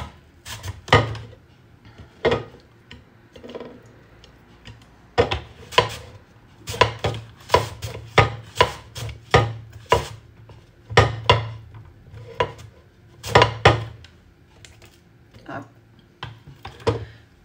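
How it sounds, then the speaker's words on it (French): Raw beetroot cut into tagliatelle strips with a spiralizer: a series of sharp, close crunching and clacking strokes in an uneven rhythm, with brief pauses between bursts. "On va utiliser un spiraliseur."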